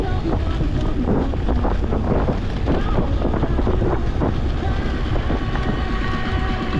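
Strong wind buffets the microphone outdoors in Crimea, a continuous loud low rumble and roar with gusty flutter throughout, masking everything else.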